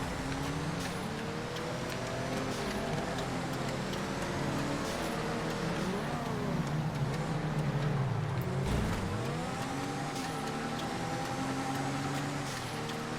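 Several cars drive in a GTA V FiveM off-road race. Engines drone steadily and sweep through pitch shifts as vehicles accelerate and pass, a continuous loud motor mix with no speech.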